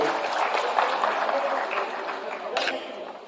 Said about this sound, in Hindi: राजश्री, जोरदार ताली होनी चाहिए